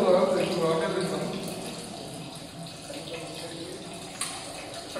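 Water runs steadily through an incineration system's water recycling model, a continuous splashing flow that fades slightly, with a faint voice underneath.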